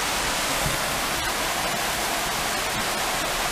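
A small waterfall at a tourist site pours continuously, a dense, loud, steady rush of water filling the whole scene.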